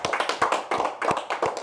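A church congregation claps hands together in quick, rhythmic bursts, several sharp close claps in a short run with no talk.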